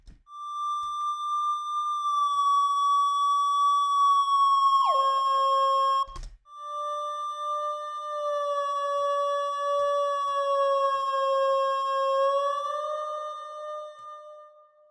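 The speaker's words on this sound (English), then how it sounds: "Now I'm going to throw a little reverb on there." A sustained synth tone in FL Studio with heavy reverb, holding a steady pitch, dropping lower midway, then resuming with a washy, echoing tail, in a chill house track.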